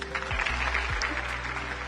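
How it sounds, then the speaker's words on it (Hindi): Brief, faint applause from a small group, heard softly during a prank phone call, with low thumps at the start. "वो तो तालियां बजानी शुरू कर दी।"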